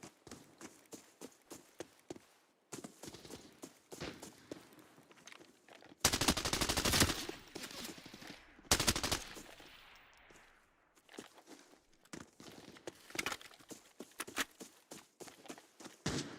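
An AK-12 rifle in a video game fires sharp full-auto bursts, two dense loud volleys in the middle, surrounded by scattered single shots and footstep-like clicks.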